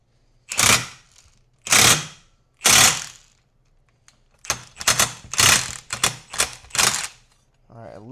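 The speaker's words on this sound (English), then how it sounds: "let's go again with our pipe expander" A pipe expander is worked inside a Honda 400ex exhaust pipe with sharp, close metallic clacks, three spaced hits followed by a faster cluster of five or six.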